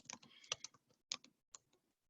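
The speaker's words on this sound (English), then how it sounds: "notice I'm going to start typing here" Quick clicking keystrokes on a computer keyboard, an irregular burst of typing that slows to a few isolated taps, close and quiet.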